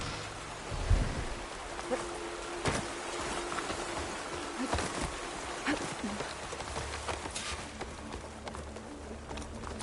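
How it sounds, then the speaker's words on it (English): Steady rain falls across an outdoor scene in the video game Horizon Forbidden West, a constant hiss with scattered drops and patters running throughout, with faint low rumbles underneath. "Rain's letting up."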